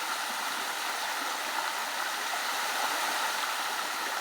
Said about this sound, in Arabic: مياه ساخنة تنزل من الشلالات تكون هذه الأحواض